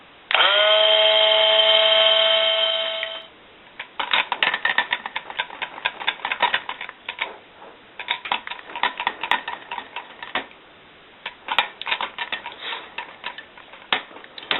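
A power mixer whirs steadily for about three seconds while blending lemongrass and ginger soap batter, then stops, followed by a long run of irregular clicks and taps from the mixer and container.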